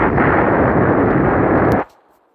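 A loud, sustained roar of missile blasts and rumbling explosions striking Earth in the video game Solar Smash that cuts off suddenly, leaving only a faint fading tail.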